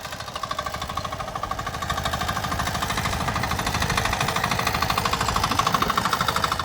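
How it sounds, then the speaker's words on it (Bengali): A small power tiller engine chugs steadily and loudly throughout, a rapid mechanical knocking rhythm that holds constant as the machine is unloaded at a village field for ploughing. "এই যেখানে একজন মেশিন নামাচ্ছে এখানে জমি চাষ করবে ছোট মেশিন"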